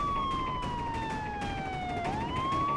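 A police siren wails steadily in a single falling tone that dips and then rises again, loud and continuous over a dense background rumble, with no talk.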